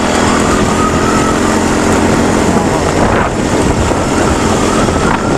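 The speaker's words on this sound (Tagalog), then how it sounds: "Lakas ang hangin, lamig." Loud, constant wind roars over the microphone on a mountain pass road between Gapan and Bongabon, a dense rushing noise with a low motor-like drone beneath it.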